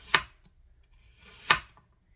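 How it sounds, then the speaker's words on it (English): A knife slicing through an onion on a cutting board, two crisp sharp chops about a second and a half apart, close and clear against near silence. "we want to slice them like we would for fajitas"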